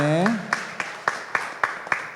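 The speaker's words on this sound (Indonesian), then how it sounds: "Tepuk tangan dulu dong untuk mereka yang juara." An audience at an anniversary event applauds the winners. A voice speaks briefly, then evenly spaced claps follow in a steady rhythm, roughly four per second, fairly close and moderately loud.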